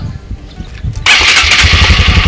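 A 2021 Honda CRF 150L motorcycle engine cranks briefly and then catches, settling into a loud, steady running rumble close by.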